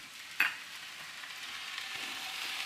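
Homestyle Chinese fried rice stir-fries in a hot pan as dark soy sauce goes in: a steady, bright sizzle with a brief sharper hiss as the sauce hits, no voices.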